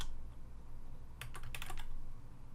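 Quick burst of keystrokes on a computer keyboard, a short cluster of close clicks lasting under a second over a steady background hum, with no talk.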